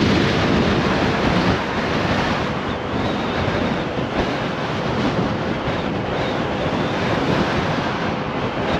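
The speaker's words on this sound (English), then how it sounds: "crazy windy at the beach." Strong wind roars across the microphone at a beach on Monterey Bay, with steady crashing surf beneath it, loud and unbroken throughout with no voices.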